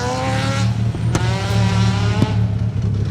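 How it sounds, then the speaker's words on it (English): Triumph TR7 V8 rally car built by David Appleby Engineering, its V8 engine held at a loud, steady drone with a strong low rumble, two sharp transient cracks cutting through the sustained roar on a rally stage. "Listen to that David Appleby engineering car."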